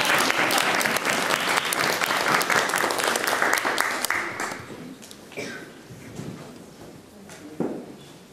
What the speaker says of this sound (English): let's applaud for...